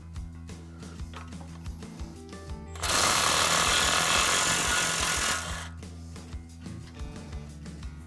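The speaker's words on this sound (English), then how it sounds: "And then remove the axle nut to follow." Impact wrench loosening the axle nut on a 2019 Ford F150 during a shock upgrade, a loud continuous burst of hammering rattle lasting about two and a half seconds, framed by quieter clanks of tools before and after.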